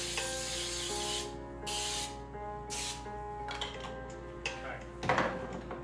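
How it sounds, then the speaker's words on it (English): Non-stick cooking spray hisses onto a pan in several short bursts, close and fairly loud, with a clatter near the end and a low hum beneath. "We gotta prep our pan, which means a good spray of non-stick."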